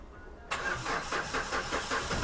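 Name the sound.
Mahindra Xylo diesel engine cranking and starting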